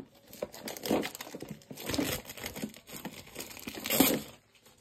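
Plastic packaging on a bead organizer crinkles and crackles in three loud bursts about a second apart as it is pulled open, with quieter rustling in between and no talking.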